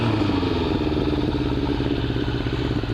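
A motorcycle fitted with a Dale Walker exhaust and a Dale Walker carb kit with air cleaners idles nearby, giving a steady, even, loud throbbing rumble with a slightly lumpy rhythm and no talking.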